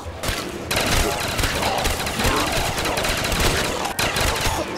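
Rapid automatic gunfire from a thermal-scoped gun in Call of Duty zombies mode, loud continuous bursts with only short breaks.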